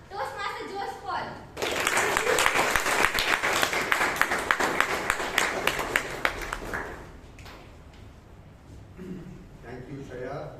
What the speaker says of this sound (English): Please give a huge round of applause to the president of the Bangalore Toastmasters Club, Toastmaster Joseph Paul.